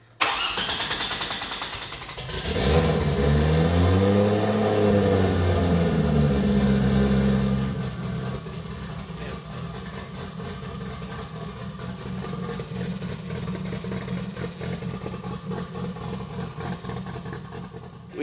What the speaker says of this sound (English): We got the engine started a little bit prematurely